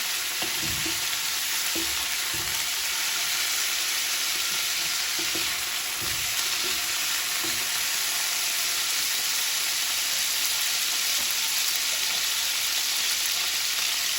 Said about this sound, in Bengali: বুকের মাংস আমি এক টুকরো বুকের মাংস এরকম ছোট ছোট করে কেটে দিয়ে দিলাম